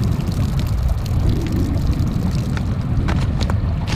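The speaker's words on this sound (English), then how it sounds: "drain all the water out of it" Water gushing and draining out of a Chasing Gladius Mini underwater drone in cold outdoor conditions, a steady rushing splash lasting several seconds with wind noise.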